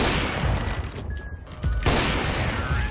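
Bursts of gunfire in a CS:GO 2 vs 2 AWP match, loud dense shots that pause briefly mid-way before firing resumes, with no speech over them.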